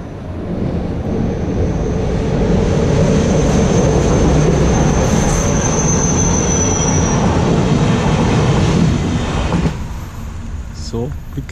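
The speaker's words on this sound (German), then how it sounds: "Glück gehabt, dass noch ein Zug vorbeigekommen ist." A train rumbles steadily across a bridge over the Danube toward a tunnel, a loud continuous roll of wheels on rails with a high squeal of wheels partway through, fading slightly near the end.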